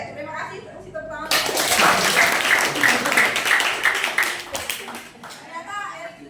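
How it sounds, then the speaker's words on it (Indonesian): A classroom of students claps together after a call to applaud, a burst of clapping that swells and holds for several seconds before tapering off, with voices talking before and after it. "Kasih tepuk tangan."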